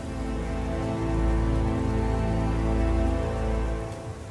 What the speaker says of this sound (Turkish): yağmurlu ve fırtınalı bir geceydi.